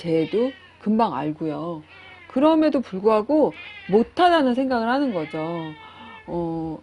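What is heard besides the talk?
pet cat meowing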